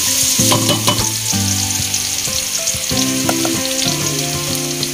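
Garlic sizzles loudly in a cup of oil for chili garlic sauce while being mixed, a dense steady frying crackle with scraping stirs and a tonal hum underneath, close and without speech.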